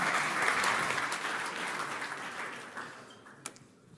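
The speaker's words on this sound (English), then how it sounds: "A round of applause for HelpSol." Audience applause at a startup event, a dense burst of clapping that starts strong and gradually tapers off over a few seconds.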